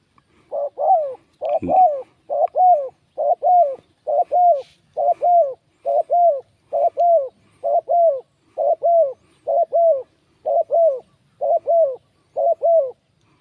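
A spotted dove cooing in a steady repeated rhythm, about fifteen clear coos evenly spaced, close and loud against a quiet background.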